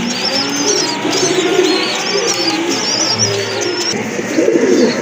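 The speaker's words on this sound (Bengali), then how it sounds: "আরেক জোড়া হোয়াইট বিউটি হোমা কবুতর, অনেক বড় সাইজের কবুতর" A pair of large white Beauty Homer pigeons coo in low, rolling bursts, near and fairly loud, while higher chirps of other birds and a passing car sound around them.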